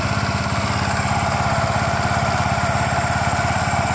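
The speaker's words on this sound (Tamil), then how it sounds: "வண்டி ஸ்டார்ட் பண்ணுற பாருங்கள் ஸ்டார்ட் பண்ணும்போது எப்படி ரன்னிங் ஆகுதுன்னு பாருங்கள்" A scooter engine with a clutch and gearbox issue runs at a steady idle, a close, continuous buzzing putter with an even rhythm throughout and no talking.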